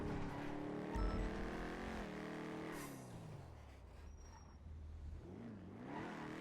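A car accelerates in a GTA V NoPixel roleplay game, the engine note climbing steadily and then easing into a lower drone, loud and continuous with no talk over it.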